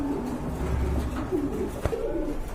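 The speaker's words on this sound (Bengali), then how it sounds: "এখানে কিন্তু ড্যানিশের একটা মাদি কবুতর আছে" Pigeons at a bird market coo softly in low repeated murmurs under steady crowd and background noise, with a short knock partway through.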